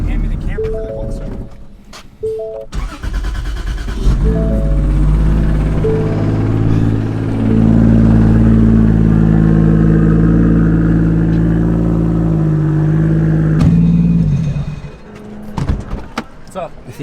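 A 2JZ-swapped Mustang cold-starts: a brief crank, then the engine catches and settles into a loud, steady, rough drone that holds for about ten seconds before dropping away, with voices around it.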